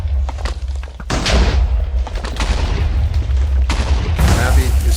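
Explosions in a Minecraft survival match, a deep booming blast that rolls on after a sharp onset, followed by further thumping blasts, loud and close, with a voice talking over them.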